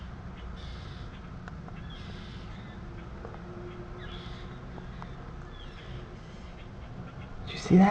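Several crows caw repeatedly while mobbing a large hawk or eagle outdoors, harsh calls recurring at intervals over steady background noise, with a louder burst at the end.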